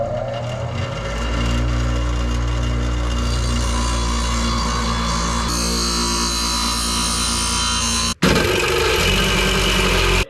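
A grinder runs during a custom header build for an OM606 Cummins turbo swap, giving a loud, steady motor whine and hum that cuts out briefly and then starts again.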